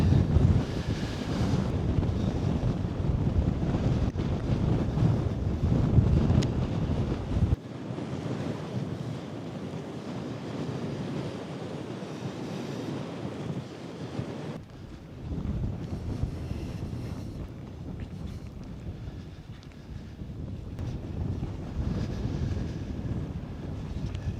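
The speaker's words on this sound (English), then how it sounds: "it is windy up here" Strong wind buffets the microphone in rough, gusty roars that rise and fall, with a rushing, surf-like wash underneath.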